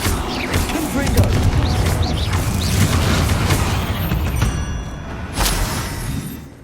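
Confringo fire spell blasts in Hogwarts Legacy rumble through a dense, loud combat din, with booming impacts and a sharp crack near the end, voices calling out over the chaos.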